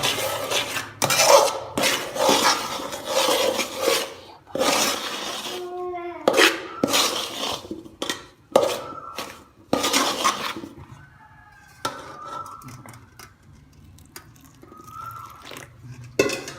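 Scraping and clattering of a utensil stirring idiyappam dough in a pot, in irregular bursts, with some talk mixed in and quieter stretches toward the end.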